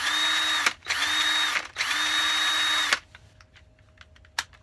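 A power drill fitted with a hole saw cutter runs in three loud bursts of whining, steady spin, each stopping briefly before the next, then falls quiet with only faint clicks and rattles.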